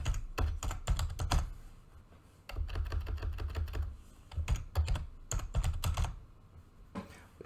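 Fingers tap out bursts of typing on a computer keyboard while Python code is entered, quick clusters of clicks broken by short pauses, close and fairly loud with no talking.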